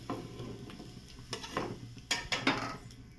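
Crisp pesarattu moong dal dosa laid onto a plate, with several sharp clinks and clatters of dishes and utensils, close and fairly quiet, spaced irregularly over a faint steady background hum.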